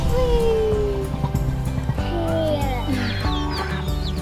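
A Silkie rooster crows briefly amid clucking hens and other farmyard bird calls, with a busy, layered background of animal sounds nearby.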